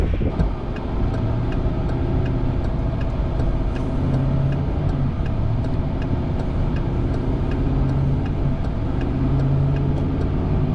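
Steady, continuous road rumble of a car driving through cold, windy Iowa after snowfall, a loud broadband drone with faint ticking throughout and no talk.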